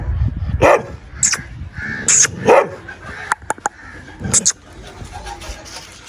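Dogs bark at a rural Punjabi farm in a few loud, close bursts spread across the stretch, with sharp short yips in between and birds chirping faintly in the background.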